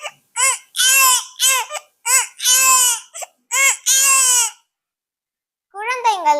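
A young girl mimics a baby crying at home, giving a series of wailing, sobbing bursts in quick succession, loud and close, with a brief pause before a final rising cry.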